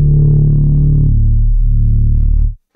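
A dark liquid drum and bass Reese bass layered with a harmonic bass synth plays loud and close as a sustained, thick low drone that shifts in tone partway through and then stops abruptly.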